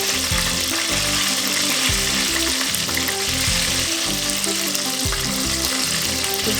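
Jamaican fried dumplings crackle and sizzle in hot oil in a loud, dense, continuous frying hiss, heard up close with no voices.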